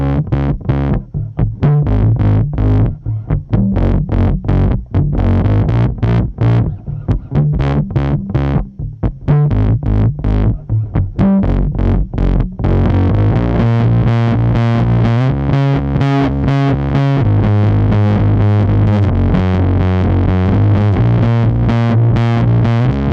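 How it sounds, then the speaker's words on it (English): Fender P-Bass strung with flatwounds runs through a DOD Carcosa fuzz pedal, playing a loud, distorted disco-style groove with choppy staccato notes at first, then a steadier, sustained fuzzy bassline, with no one talking. "Now let's hear it with a Fender P-Bass with flats in not exactly a lower gain setting, but a more disco bassline groove type of situation."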